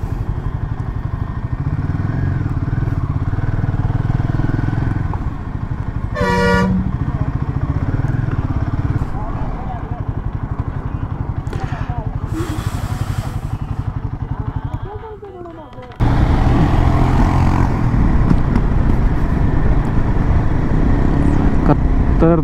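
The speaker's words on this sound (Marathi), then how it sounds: "ट्रॅफिक फुल आहे, त्यामुळे उगाच ट्रॅफिकमध्ये थांबायला नको." Busy road traffic on a ride from Madurai toward Ooty: a loud, steady engine rumble with a short horn-like tone near the start, clattering and bumps, and an abrupt dip then surge in noise late on.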